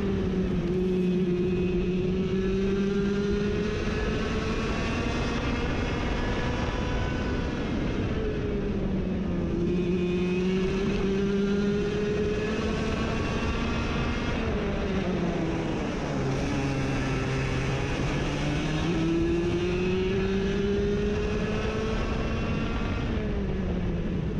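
A Mini Rok racing kart engine screams during a Super One Karting race at Rowrah, its loud, close, continuous buzzing note rising and falling in pitch as the kart accelerates and brakes through the lap.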